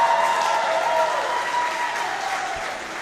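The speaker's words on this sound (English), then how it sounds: "Have a round of applause for 14 and under girls 100-yard butterfly top 8 finishers" Spectators at a swimming meet clap steadily for the 14-and-under girls' 100-yard butterfly top eight finishers, a sustained dense applause that fades slightly toward the end.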